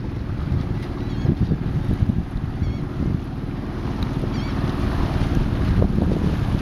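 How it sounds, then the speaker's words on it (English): Sailboat moving under mainsail alone in light wind, with steady wind buffeting on the microphone and soft water wash against the hull, continuous and fairly close throughout. "Got the mainsail up, but not a lot of wind."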